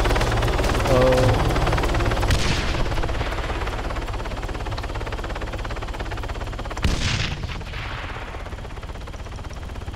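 Helicopter the player rides in during an Arma 3 King of the Hill match, a steady loud rotor and engine roar throughout with a few sharp bursts of gunfire, and a brief voice exclaims once.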